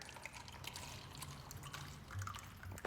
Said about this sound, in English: Pour my 10 ounces.